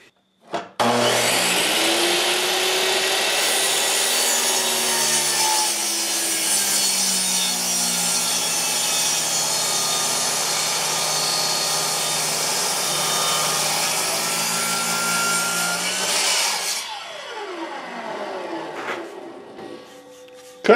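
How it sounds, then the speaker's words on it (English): A hand saw cuts through a knot in a wooden board for a shed shelf, giving a continuous close rasping stroke for about sixteen seconds before stopping abruptly, with quiet afterward. "Cutting through a knot."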